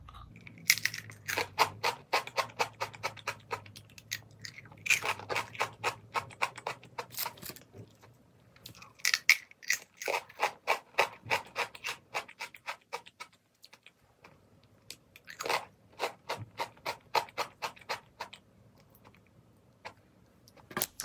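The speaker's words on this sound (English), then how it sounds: "What's your process for eating the fortune cookie?" A fortune cookie being broken open and crunched while eaten, giving repeated crisp cracking and crunching bursts in clusters, close and fairly loud, with quiet pauses between bites and no talking.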